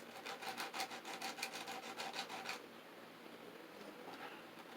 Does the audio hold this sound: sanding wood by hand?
yes